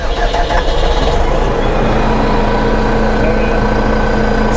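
A tractor engine at the Bursa agricultural fair starts and settles into a steady, rumbling run. It sounds close and fairly loud throughout, with faint voices in the background.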